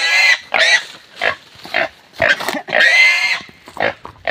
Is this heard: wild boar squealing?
yes